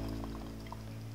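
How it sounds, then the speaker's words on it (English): Boiling water poured into a pot for tamarind ginger juice, a quiet, brief trickling splash with a low steady hum beneath it, heard alone without talking. "So you can fill this pot with boiling water"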